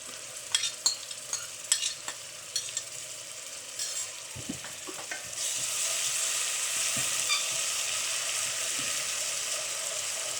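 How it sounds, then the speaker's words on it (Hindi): Ginger and garlic with chillies sautéing in a pan for a Pakistani egg and chickpea curry, with scattered stirring clicks and scrapes at first, then a steady, close sizzle of frying that fills the second half. "अब ये अदरक लहसुन डाल रहे हैं, ये भी इसके साथ साथ हो जाएगा।"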